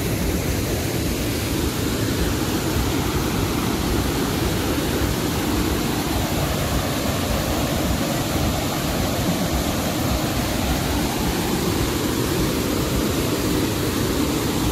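Steady, dense rush of water pouring down Kaeng Song waterfall in Wang Thong, Phitsanulok, Thailand, a constant close roar that holds without change and with no voices.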